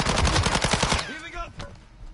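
Rapid bursts of video game gunfire rattle loudly for about a second, then stop, leaving quieter game sounds and faint tones behind.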